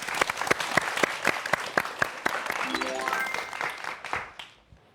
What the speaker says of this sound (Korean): 강연 박수로 다시 한번 청해 보겠습니다